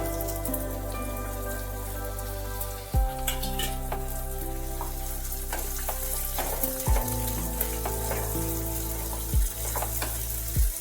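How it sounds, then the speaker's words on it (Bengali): Chopped onions frying in oil in a pan over a low gas flame, a steady close crackling sizzle with a few bumps and clunks from the pan. "একটু ভাজার পর দিয়ে দিতে হবে কেটে রাখা পেঁয়াজগুলো।"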